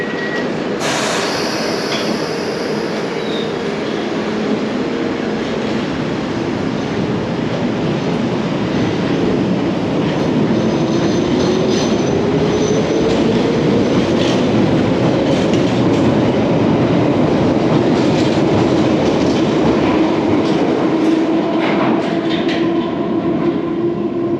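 A London Underground train pulls away from the platform at King's Cross, a loud continuous rumble with rising whine and rattling wheels that swells as it accelerates.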